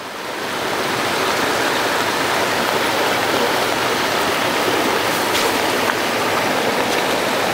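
Stream water at the Bhalu Khola source in Dharan rushes continuously, a loud, dense, unbroken flow of splashing water heard up close.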